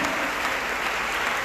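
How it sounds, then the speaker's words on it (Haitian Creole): A church congregation claps in a dense, steady burst of applause that fills the room, with no voices standing out. "Applaudissez mon Dieu pour ça"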